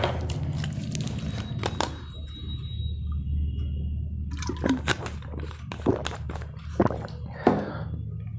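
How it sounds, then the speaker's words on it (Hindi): A few soft gulps and sips of water, spaced apart against a steady low room hum, close and quiet with no talking. "चलो थोड़ा सा पानी पी लेते हैं।"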